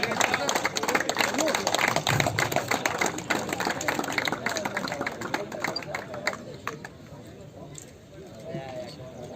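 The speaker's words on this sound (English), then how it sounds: "Give a huge round of applause for Mr. Majid Hurra," Audience clapping at an outdoor cricket tournament award ceremony for the umpire, a dense burst of applause that peaks early and then thins, with crowd chatter and a speaking voice running underneath.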